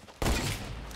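A no-scope sniper rifle shot fired in a video game: one sharp, loud report that breaks in abruptly and trails off into a sustained, slowly fading rumble, with no talking over it.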